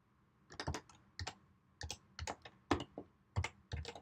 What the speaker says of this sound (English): I'm gonna type it in.